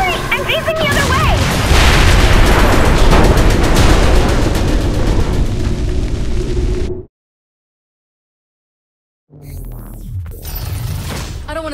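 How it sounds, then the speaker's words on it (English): A capital ship blows up in Saints Row IV with a loud, sustained roar of booming blasts and crackling debris. The noise cuts to sudden silence, then rumbling returns faintly. "I just blew up a capital ship"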